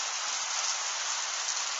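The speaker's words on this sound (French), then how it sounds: "Pas d'éclairs mais beaucoup de grêle." Heavy hail driven by wind pelts surfaces in Tour-en-Sologne during a February storm, a dense, steady, hissing clatter that holds at constant loudness throughout with no voices.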